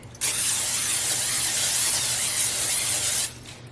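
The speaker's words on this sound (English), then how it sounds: "I'm gonna spray the tops just so that way the seasoning can stick" Cooking oil spray hisses in one continuous burst lasting about three seconds, coating the tops of food so seasoning will stick, close and fairly loud, then cuts off sharply.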